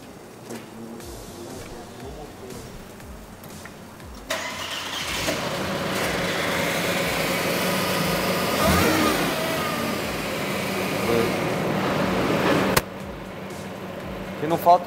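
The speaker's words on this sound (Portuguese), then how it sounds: "Agora entra no carro e liga. Vamos ligar ele." Six-cylinder B6 car engine starting after some quiet moments with voices, catching with a burst and then running at a steady, fairly loud idle with slight revving, before cutting to quieter sound at the end.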